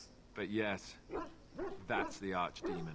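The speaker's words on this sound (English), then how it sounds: "I'm sorry my dog is interrupting most of our conversation." A dog barks and yips in several short bursts close to the microphone, overlapping a person speaking.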